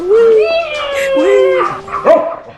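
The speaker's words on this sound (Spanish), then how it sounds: "También tenemos unos perritos." Small dogs in Concón, Chile yip, whimper and give short high barks close by in a quick run of excited calls, with some voices mixed in.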